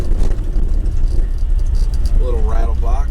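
A 1976 Alfa Romeo Alfetta GT with a 1.6-liter four-cylinder rattling loudly from inside the cabin while driving, with constant road rumble and a voice speaking briefly near the end.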